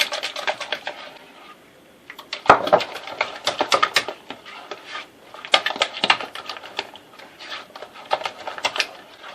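Vanilla pastry cream filling mixed in a bowl with a utensil, a close series of quick clinks and scrapes against the bowl in irregular bursts with a short pause early on.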